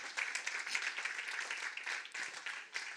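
A church congregation breaks into steady, dense applause that fills the room, sustained clapping from many hands with a faint voice underneath.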